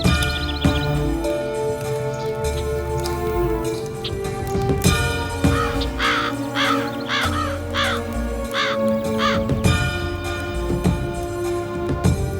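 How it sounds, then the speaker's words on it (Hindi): Crows cawing repeatedly in a film scene, a loud, close series of harsh calls laid over a busy backdrop of music with jingling and ringing tones. "कौवा कौवा कौवा कौवा"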